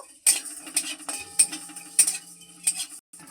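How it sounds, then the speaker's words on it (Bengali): Whole coriander and cumin dry-roasted in a wok, with a metal spoon or spatula scraping and clinking against the pan in a rhythmic series of sharp, close stirring strokes, no talking. "এবার আমি শুকনো খোলায় মশলাটা খুব ভালো করে ভেজে নেব"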